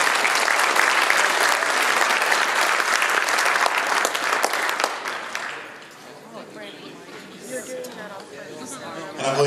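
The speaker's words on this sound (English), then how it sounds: "Let's give a big round of applause to Brandon as he comes up." A banquet crowd at a racing awards night applauds Brandon Blocklinger with loud, steady clapping that fades after about five seconds into murmuring chatter and voices.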